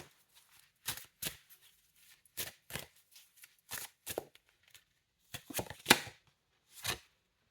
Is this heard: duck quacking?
no